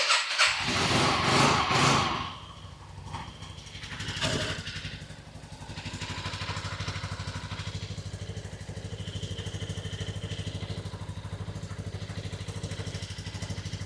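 A cold Yamaha Riva 180 scooter engine cranks with a whirring starter, revs in bursts, then settles into a steady, rumbling idle for the remaining seconds.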